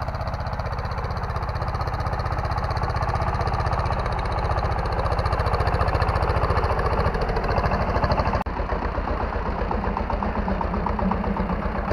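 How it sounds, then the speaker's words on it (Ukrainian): A small tractor engine chugging steadily up close, pulling a cultivator between potato rows, a constant rhythmic putter that holds for the whole stretch with a slight shift near the end. "Оце робота саме для цього тракторця. Він навіть не відчуває. Легенько собі тягне помаленьку"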